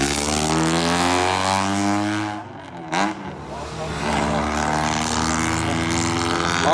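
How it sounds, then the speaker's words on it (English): A Nissan Skyline R34's loud, deep exhaust drones and revs, briefly dipping and then surging back up to a steady throaty roar nearby, at Fuji Speedway. "let's hear the exhaust on this one"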